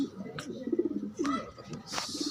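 Blue bar pigeons coo nearby in soft, rolling low calls, with a few brief higher sounds and some background noise between the coos.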